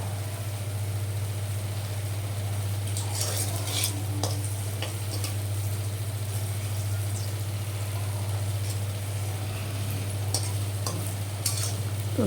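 Lentil fritters (bora) frying in hot oil, a steady close sizzle with occasional pops and faint stirring clinks, over a constant low hum, with no talk.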